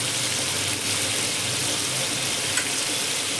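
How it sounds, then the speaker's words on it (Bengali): Paneer frying in oil with turmeric, a steady dense sizzle running evenly throughout without pauses, close and moderately loud. "হলুদ দিয়ে এবার পনিরটা আমি ভেজে নেব।"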